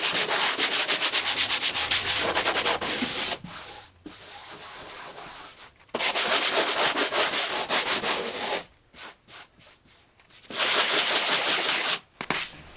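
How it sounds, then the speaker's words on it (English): A sanding block rubs back and forth over a painted fireplace surface between coats, with steady scratchy strokes in several long bursts broken by short pauses and no speech. "I'm just gonna hit it with a sanding block really quick"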